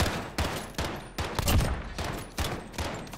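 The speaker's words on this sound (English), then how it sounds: "SMG turned into a freaking semi-auto right there" Submachine gun in Call of Duty: Modern Warfare firing single semi-auto shots, about eight separate loud close reports at a steady, fairly quick rhythm with brief gaps between them.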